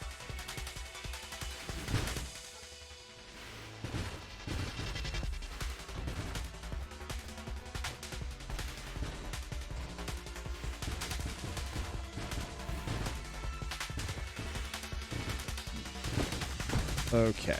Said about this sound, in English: Splinter shot on this is incredible.